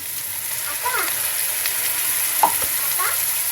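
Spices and coconut with a little coconut milk frying in a pan, giving a steady close sizzle with occasional stirring scrapes and a faint high background tone.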